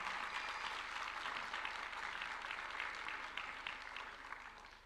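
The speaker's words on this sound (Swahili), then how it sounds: "Makofi ijae kabisa." Applause from a crowd at State House greets the president as he receives a football jersey from the Migori youth team, a dense, steady clapping that carries on throughout and eases slightly toward the end.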